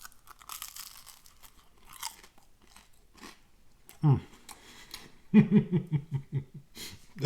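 Crisp bites into air-fried catfish with a pork rind crust, recorded close to the microphone: a sharp bite followed by a run of rhythmic crunchy chewing, with faint murmuring before it.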